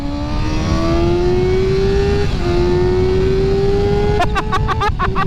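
A 2020 Kawasaki ZX6R inline-four sport bike engine revs up in one long, loud, climbing pull, its pitch rising steadily with a brief shift partway and sharp crackles near the end.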